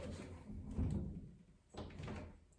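A Copper Creek CK2020BC Colonial door knob's latch shuts into a custom-made wooden door jamb, giving a few faint, close knocks and clicks with no talking.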